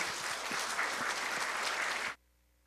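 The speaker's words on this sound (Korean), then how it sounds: "올 때 하나님께 영광의 박수." Congregation in a church clapping together, dense sustained applause for about two seconds that stops abruptly, leaving near silence.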